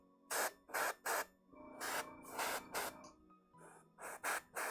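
Short bursts from an aerosol spray can painting over yellow on a model figure, a series of close hissing puffs with brief gaps between them, some blasts longer than others.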